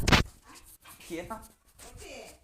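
A single short dog bark at the start, followed by quiet voices talking.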